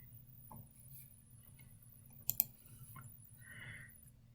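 A few faint, scattered keystrokes click on a computer keyboard as a short password is entered. The clicks come in sparse pairs and singles against a quiet background, with two slightly sharper taps near the middle.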